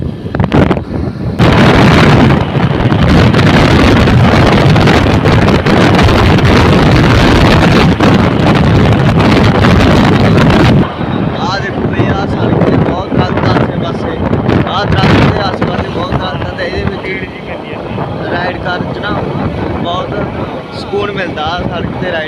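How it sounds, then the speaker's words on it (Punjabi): Loud, rough Royal Enfield Bullet motorcycle engine rumble heavily buffeted by wind noise on a road in Punjab, easing somewhat in the second half while a voice talks over it. "ਆਹ ਬੁਲਟ ਬਹੁਤ ਸ਼ੋਰ ਕਰ ਰਿਹਾ"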